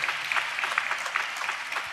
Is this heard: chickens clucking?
no